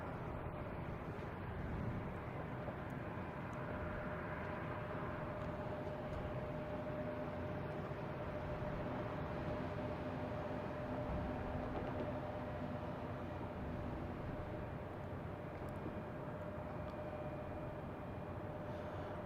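FedEx Airbus A300-600 jet arriving at Boston Logan airport, a steady broad engine roar holding at moderate level throughout with a faint tonal whine, no voices.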